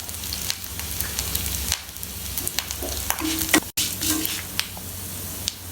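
Black urad dal and coconut fry in a pan, giving a close, crackly sizzle with small spoon clinks and scrapes and a brief break partway through.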